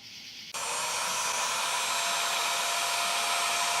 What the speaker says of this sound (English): Now we're using a heat gun on the heat shrink.